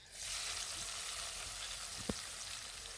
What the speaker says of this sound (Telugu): ఈరోజు నేను ఉల్లిపాయలు వేసేసుకున్నాం